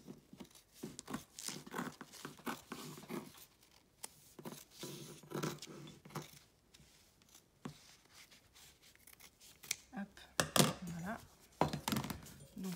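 Scissors snip through fabric pattern pieces for a gardening apron, in short crisp cuts and rustles that come in bursts across the clip, close up, with a voice speaking at times in between.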